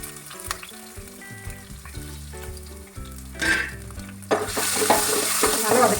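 Oil sizzles and crackles loudly in a pan, swelling into an intense hiss as chopped ginger and chilies hit the heat, with occasional stirring clinks.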